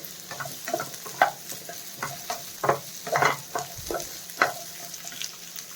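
Onion and garlic frying in a pan for stuffed ridge gourd, with a soft sizzle under a rapid run of utensil scrapes and taps against the pan, several louder strokes standing out; no speech.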